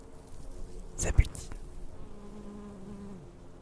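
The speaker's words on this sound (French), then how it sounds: "le bourdonnement d'une abeille" A bee buzzing while foraging outdoors at a fort near Grenoble: a sharp brushing rustle up close, then a thin steady buzz that drones on for about a second before fading, with no talking.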